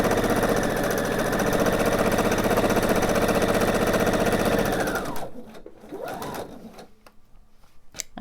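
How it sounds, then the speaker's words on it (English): A sewing machine runs steadily at close range for about five seconds, stitching a quilt block seam onto a leader-ender scrap, then stops; a quieter fabric shuffle and faint machine noise follow. "I'm going to sew onto my leader ender"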